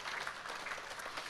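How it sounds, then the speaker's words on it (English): An audience at a business awards ceremony gives a short burst of applause, its steady clapping filling the room. "please do give her a big another round of applause"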